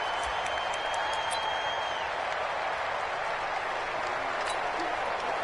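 Dense, steady stadium crowd roar at an NFL football game between the Packers and 49ers, a broad unbroken wash of cheering and noise from a packed home crowd with no clear voices standing out.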